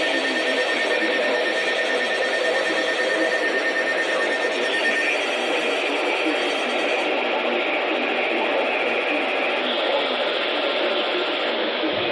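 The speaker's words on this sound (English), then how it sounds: "official messages would have followed the alert tone" Emergency Alert System broadcast alert tone, a loud, continuous steady electronic warning tone lasting over twelve seconds without a break, carried over a radio or TV broadcast with no speech.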